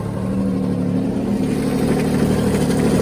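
A 2021 Yamaha Waverunner EX jet ski engine runs steadily at close range, a loud, dense mid-pitched whir that swells slightly partway through, with no talking.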